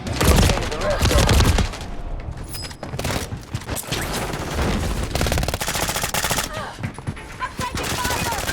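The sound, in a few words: gunfire in Modern Warfare 3 video game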